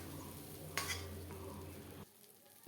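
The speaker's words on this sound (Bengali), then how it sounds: "সব পটলগুলো আমি তুলে নিচ্ছি" Fried pointed gourds being scooped out of a hot pan, with a steady close sizzle of oil, a sharp scraping clink of a utensil partway through, then a sudden quieting as the sizzle drops away.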